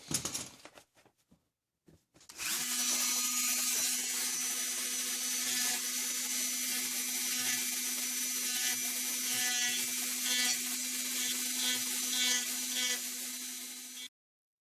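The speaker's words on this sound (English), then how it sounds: "Now I'm going to get in there and do a little bit of rough sanding with my Dremel" After a few knocks, a high-pitched Dremel rotary tool whines steadily while sanding a plastic RC car chassis, its grinding tone wavering slightly, then cuts off.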